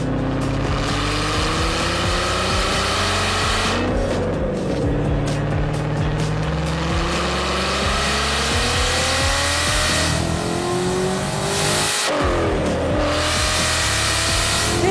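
A Ford GT's supercharged engine roars as it accelerates hard, with rising pitch through several gear changes and a loud, close, continuous growl that briefly drops at each shift.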